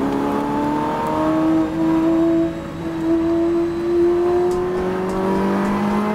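A Ferrari engine in the Forza racing video game revs and accelerates steadily, its pitch climbing through gears, loud and close with a continuous whining drone.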